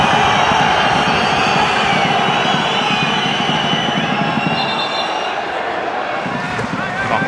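Football crowd cheering after a goal at a Lillestrøm vs Rosenborg match in 2022, a loud sustained roar of many voices filling the stadium throughout, with a commentator talking over it.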